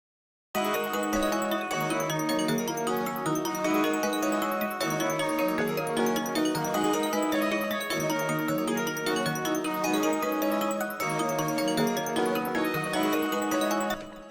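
A dark plugg beat melody layers a small synth with a bell in a looping, repeating pattern, steady and full for about fourteen seconds with no voices.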